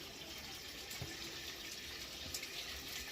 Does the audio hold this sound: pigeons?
no